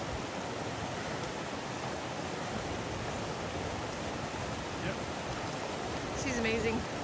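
Steady rushing water from a stream crossing on the Pacific Crest Trail near Selden Pass flows nearby in a continuous broadband hiss, with faint voices briefly audible underneath toward the end.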